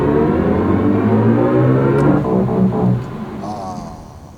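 A BMW i5 electric sedan accelerates hard, its motor tone rising in a smooth layered whir before easing off near the end, fairly loud with no engine roar.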